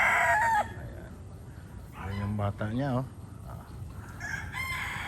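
A rooster crows loudly nearby, then someone talks over a faint farmyard background, and another crow rises near the end.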